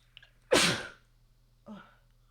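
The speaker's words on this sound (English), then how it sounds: "Wow, I need to sneeze." A man lets out one sharp, loud sneeze close to the microphone, followed a second later by a shorter, softer exhale or second burst.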